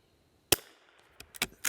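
Rifle shots fired with match ammunition through an Arken scope at a range, heard as four sharp, loud cracks: one at first, then three more in a tight, irregular burst, each leaving a brief decay.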